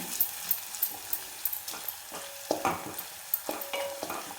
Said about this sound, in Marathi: थोडंसं आपण अद्रक आणि लसूण ठेचून घेतलेलं आहे ते आपण टाकून घेऊ. कच्चेपणा जाईपर्यंत आपल्याला फक्त परतून घ्यायचं आहे.